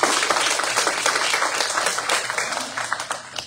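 Steady audience applause at a community membership meeting, a dense crowd of clapping hands sustained for several seconds with a slight taper at the end.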